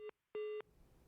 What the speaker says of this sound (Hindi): लगता है मनोरंजन जी फोन काट गए हैं, तो फिर से जुड़ने की कोशिश करेंगे।